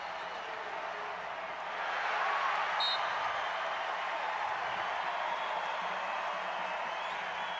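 A Wichita State Shockers home basketball crowd cheering at a tied game: a broad, steady roar that swells about two seconds in and holds at a loud, even level to the end.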